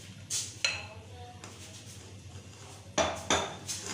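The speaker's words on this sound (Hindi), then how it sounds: "ये जो मैंने चिकन को फ्राई किया और सब्जियों को, ये मैं इस सॉस के अंदर शामिल कर रही हूँ।" Fried chicken cubes and vegetables being stirred into sauce in a pan for chicken fried spaghetti, with a few distinct metal utensil clinks and scrapes against the pan spaced apart over quiet kitchen background.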